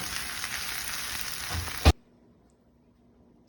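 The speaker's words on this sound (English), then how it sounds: "here's our sauteed spinach and onions" Spinach and onions sautéing in a pan, a steady soft sizzle with light stirring that ends abruptly with a thump, followed by near silence.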